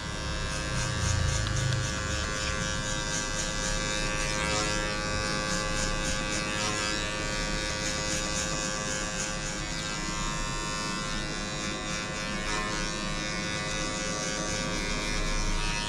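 Electric hair clippers with a 1.5 guard cut a fade haircut, giving a continuous close buzzing hum with slight wavering as they move over the head and no speech.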